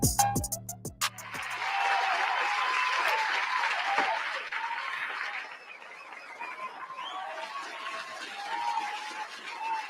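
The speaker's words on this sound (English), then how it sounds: "I'm letting the entire applause play out when I enter the show" Sustained crowd applause rises after a brief loud opening burst and carries on steadily at a fairly even level, marking a talk-show host's entrance in front of a studio audience.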